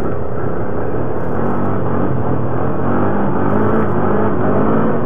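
ATV engine revving hard during a wheelie on frozen, lightly snowed ground, a loud continuous motor roar held close for several seconds.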